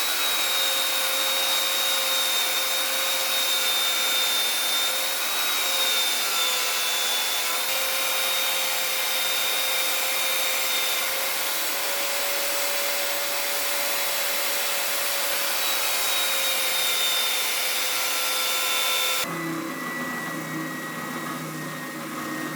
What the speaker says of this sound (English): Onto the orbital sander. And starting to really creep up on the line